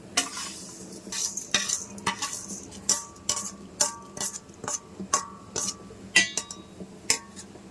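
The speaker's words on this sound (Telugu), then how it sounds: "మనం వేపు ఉంచుకున్న సేమియా సగ్గుబియ్యం వేసేస్తున్నానండి" Roasted vermicelli and sago stirred into boiling milk for sugar-free payasam, with a steady run of close spoon scrapes and clinks against the pot, recurring every half second or so over a soft bubbling simmer.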